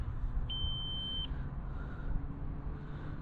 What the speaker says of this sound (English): Now my 8-minute timer's about to go off, guys.